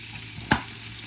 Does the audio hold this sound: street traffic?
no